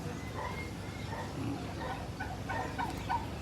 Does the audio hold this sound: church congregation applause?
no